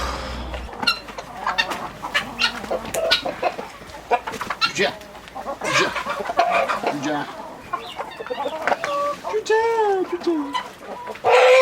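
Several chickens cluck and squawk close by inside a coop on a cold day, a continuous, busy chorus with occasional drawn-out calls rising over the chatter.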